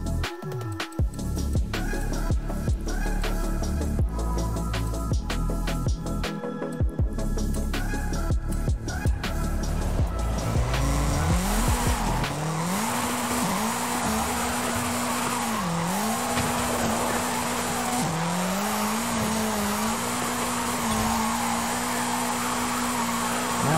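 Toyota Celica of about 500 horsepower in Forza Horizon 5, its engine note climbing and leveling through gear changes with tire squeal, a loud continuous roar that rises after a rough start.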